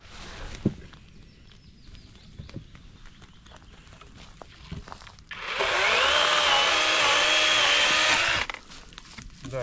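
A gasoline chainsaw cuts wood at a lakeside outing, first quiet with scattered knocks, then a loud steady high-revving roar for about three seconds before it stops abruptly.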